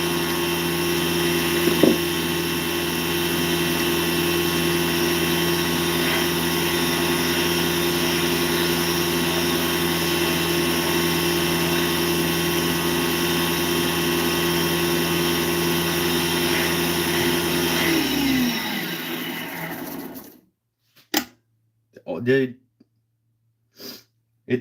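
A Nova wood lathe spins steadily with a constant whirring hum while a pen is sanded down to the bushings, then winds down and stops near the end, leaving brief knocks and a few short sounds.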